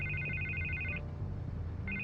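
A telephone in Batman: The Telltale Series rings in repeated bright electronic trills, a long burst followed by a pause and the start of another ring, clear over a low background hum.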